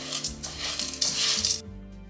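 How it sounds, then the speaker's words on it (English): Two cups of sugar stirred in a pot as it melts, a spoon scraping and clinking against the metal in quick busy strokes, close and fairly loud, stopping abruptly near the end. "stirring this until it melts, because you don't want it to burn"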